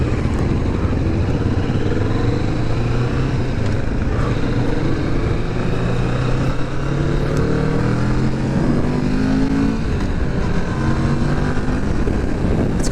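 A 2023 Kawasaki Vulcan S motorcycle engine grumbles deeply while riding, a steady low drone with rising and falling revs through gear changes, mixed with constant wind rush.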